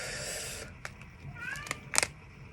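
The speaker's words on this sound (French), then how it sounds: "il y a mon chat qui s'impatiente derrière la porte." Cat meowing impatiently behind a door, a few short separate meows, fairly close, following a higher whine and some light clicks and knocks.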